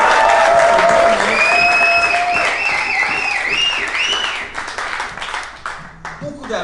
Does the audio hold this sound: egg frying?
no